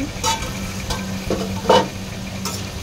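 Partly boiled potatoes fry in a pan for a ridge gourd and potato dish, a steady low sizzle broken by a few sharp scraping clicks of stirring, with no voices.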